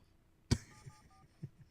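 Touch-tone keypad beeps from a telephone number being dialed: a sharp click, then three short, evenly spaced DTMF tones, fairly quiet and with no talk over them.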